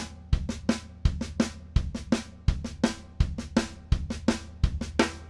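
A drum kit plays a David Garibaldi-style funk groove, with kick and hand strokes on the second sixteenth note of each beat, repeating in a tight, even pattern of sharp, close hits with no talk.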